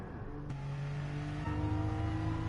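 Porsche 911 Turbo engine in Gran Turismo Sport holds a steady mid-pitched drone, then rises in pitch and gets slightly louder about halfway through as the revs climb, with no talking over it.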